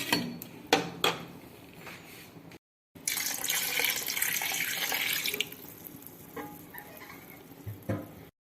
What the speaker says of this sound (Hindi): मैंने 2 गिलास पानी डालूंगी, आप भी अपने हिस्से पसंद पानी डाल दें।